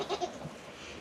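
A goat in labor gives a short, soft bleat during kidding season on a farm, a brief nasal call that fades quickly, close by with no talking.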